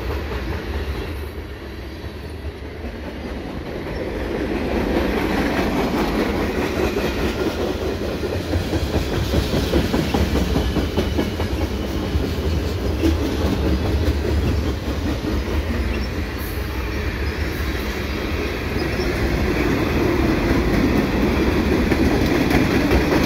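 A CN eastbound manifest freight train rolls past Cedar Park Station in Montreal with loud, continuous rumbling and rhythmic clickety-clack of wheels on rail, steady and close throughout.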